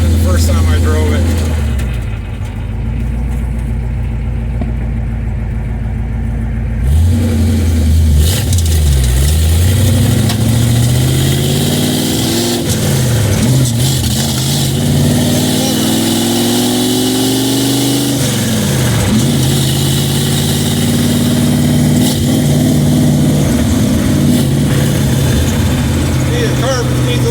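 A 1929 Model A fitted with a big-block engine and a four-speed revs through repeated rising and falling pulls while driving, loud and close throughout, with voices talking over the engine.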